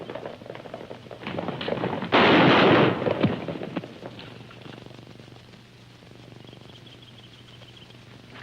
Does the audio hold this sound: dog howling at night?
no